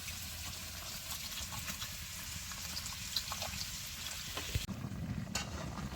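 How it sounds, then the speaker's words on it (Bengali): Water is poured into a pan of nearly finished goat meat curry with large fried potato pieces on a village gas stove, giving a steady sizzle and bubbling that shifts abruptly near the end as the liquid hits. "জল দেওয়া হচ্ছে।"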